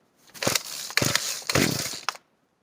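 A McCulloch Titan chainsaw being started with a primer ball, full choke and throttle locked open, giving three sharp pull-start bursts, each a brief rough rasp of about half a second, close and fairly loud.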